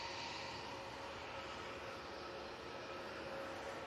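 Airbus A320ceo airliner heading back to Heathrow, a steady broadband engine roar at moderate distance, even and sustained without talk.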